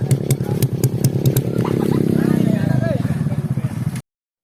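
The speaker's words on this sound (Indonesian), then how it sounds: "motor 4 tak tapi udah berasap" A four-stroke motorcycle engine that is already giving off smoke runs steadily and close by on a rural back road, a rough clattering pulse that holds for about four seconds before cutting off.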